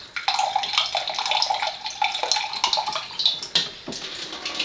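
Water streams steadily from an alkaline water ionizer's outlet, a continuous splashing flow with small surges and dips, close and alone with no talk.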